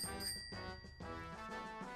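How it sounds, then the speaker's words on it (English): A bicycle bell on a mountain bike rings in a quick repeated ching-ching, bright metallic tones chiming several times and sustaining softly at low volume. "The bell rings with a ching-ching."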